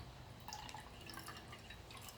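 Water drips faintly and sporadically as a reishi mushroom is cleaned, the small splashes quiet and close over a low background hiss.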